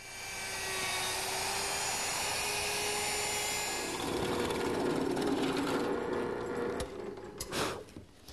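A router fitted with a 1/2-inch roundover bit shapes the edges of redwood, giving a loud, sustained high-pitched whine that deepens as the cut loads, then spins down and stops.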